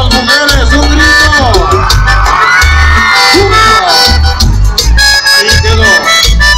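A concert crowd whoops and shouts loudly over live norteño music, with the cheering and the band overlapping as a dense, near wall of sound.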